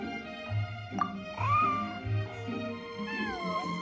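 Several clear, close cat meows from a video game rise and fall in pitch over a soft, steady tonal music bed.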